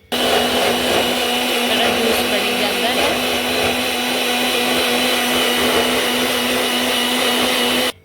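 A kitchen blender whirs continuously while making homemade litchi juice, a loud, steady motor drone with churning liquid running for about eight seconds before cutting off.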